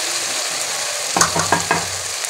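Ginger garlic paste frying over a low flame in a karahi, a soft steady sizzle that breaks into three or four sharper spattering pops near the end.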